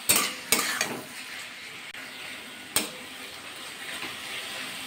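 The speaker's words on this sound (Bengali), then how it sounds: "পেঁয়াজটা কিন্তু ভালো করে ভাজা করে নিতে হবে।" Onions fry in a pan for an egg curry, a steady sizzle running throughout, punctuated by a few sharp scrapes and clinks of a spatula stirring against the pan.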